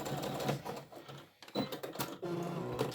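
A sewing machine stitching across a bag runs in a fast, continuous mechanical chatter, pausing briefly before resuming at close range.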